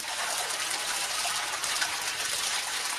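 Borewell water gushes and splashes steadily while someone bathes, a close, continuous broadband pour with no talking over it.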